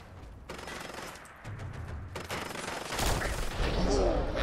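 Sustained minigun fire in Fallout 4 with a Brotherhood of Steel knight in wreckage, a dense, continuous rattle that builds in loudness over several seconds with booming impacts mixed in.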